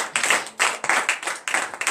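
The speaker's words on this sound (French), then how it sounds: "Donnez de vive acclamation à notre Seigneur Jésus." Clapping and applause from a congregation at a morning prayer service in Benin, acclaiming Jesus: bursts of hand claps in three surging waves, fairly close and lively, with no voices over them.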